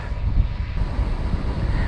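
Steady, heavy rumbling wind buffeting the microphone on a long bike ride, a continuous low roar with no voices.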